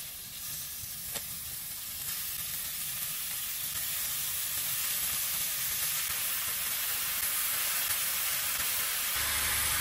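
Beef hits sautéed onion in a hot pan for Ilocano sinanglaw, a loud, close, steady sizzle and hiss that swells slightly and holds for about ten seconds, with faint stirring and no talk.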